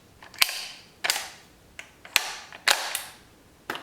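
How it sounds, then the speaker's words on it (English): A bolt is seated into an Argentine 1891 Mauser rifle, giving a series of six sharp metallic clacks and clicks spaced irregularly, close and crisp with brief ringing tails and no talking. "And then you just place in your bolt."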